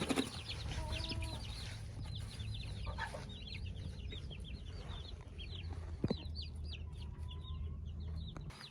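Several backyard hens cluck and murmur inside a coop with nesting boxes, soft overlapping calls with a brief scuffle of movement partway through, fairly faint and close.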